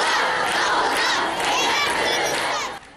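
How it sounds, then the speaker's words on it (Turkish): Women protesting the killing of two girls in a street rally chant slogans in loud unison, with whistles and clapping mixed into a dense, continuous crowd roar that fades at the very end. "Kadınlar alkış, ıslık ve sloganlarla Leyla ve Eylül'ün katledilmesini protesto etti."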